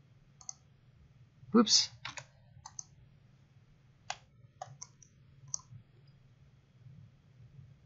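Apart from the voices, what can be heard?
computer mouse double clicking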